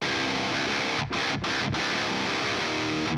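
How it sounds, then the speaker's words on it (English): Heavily distorted metal guitar played through a 5150 amplifier with an impulse response, a dense, continuous wall of tone with three quick rhythmic stops near the middle; loud, close and alone. "I have the 5150 with the same impulse response that we've been using up to this point."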